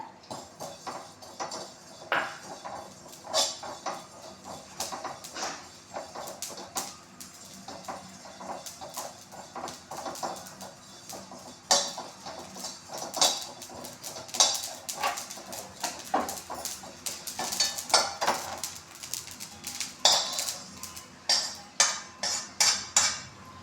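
Cumin seeds are roasted and stirred in a pan for homemade kitchen king masala, giving repeated sharp metallic scrapes and clinks in irregular bursts that grow busier toward the end.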